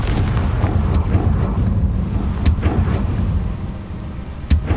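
A Confringo fire spell blasting dry vines in Hogwarts Legacy, a loud rumbling roar with crackling bursts and several sharp cracks spread across the few seconds.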